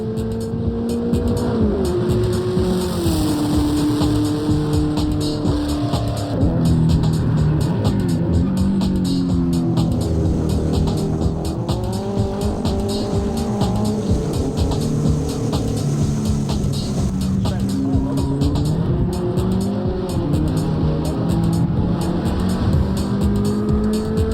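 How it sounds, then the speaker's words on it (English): A 230 horsepower Volkswagen Beetle race car runs hard at a drag racing event, its engine note rising and falling through repeated acceleration and shifts, loud and sustained. "Darren's Beetle has plenty of power."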